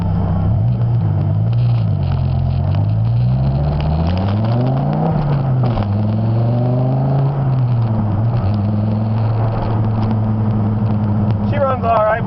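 A 2000 Dodge Viper on a test drive, its engine droning loud and close throughout with rising and falling revs as it accelerates and shifts, and a voice talking over it.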